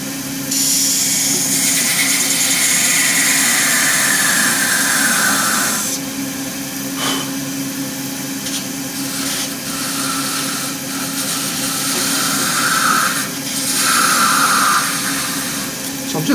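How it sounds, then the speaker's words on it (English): Wood lathe spinning while a tool works a shaving brush handle, a steady whirring drone with a high scraping whine that rises and falls as the cut changes, loud and close, with short pauses in the cutting. "So I'm just slowly taking that away so that it doesn't jump off the lathe."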